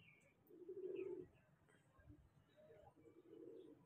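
A young homing pigeon, a flying-type bird caught at night, gives low soft coos, one longer coo near the start and another toward the end, close by over faint background noise.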